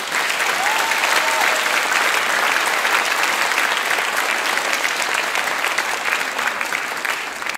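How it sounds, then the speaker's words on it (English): Steady, dense audience applause at a choir concert, loud and sustained from start to finish with no break, clapping filling the hall before fading abruptly at the very end. "So can we have a wonderful round of applause for all those people?"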